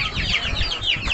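Mixed-breed village chickens cluck and squawk in a busy farmyard chorus, several birds calling over one another in quick, overlapping bursts at close range.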